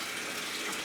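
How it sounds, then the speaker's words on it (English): Water gushes steadily from a tap into a bathtub, a constant, close, hissing pour with no pauses. "we're going to fill up the tub and try to make it look like filthy sewer water"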